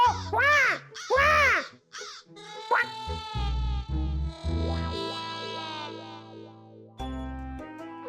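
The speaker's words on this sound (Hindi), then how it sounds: "कौवा का क्रो." Two harsh, distorted crow caws ring out in a cartoon, followed by bright musical tones and effects.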